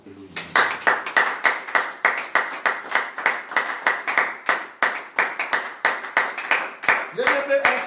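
A church congregation claps in a fast, steady unison rhythm, loud and close, with voices cheering underneath the repeated hand claps.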